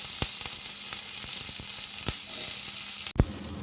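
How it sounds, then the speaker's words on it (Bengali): Onion frying and being stirred in a pan with mustard seeds and asafoetida: a steady, close hiss of sizzling oil with a few soft scrapes and taps of stirring, and a brief knock near the end, no talking. "আমি পেঁয়াজটা দিয়ে নাড়াচাড়া করে নেব"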